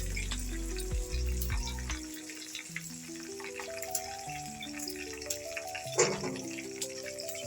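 Fenugreek, pepper, mustard and cumin seeds sizzling in a little hot oil for drumstick sambar, a steady close crackle with light stirring, and a low hum in the background with no talk.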